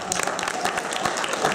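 Short burst of audience applause at a Speaker's Night event, brisk and dense clapping from a crowd.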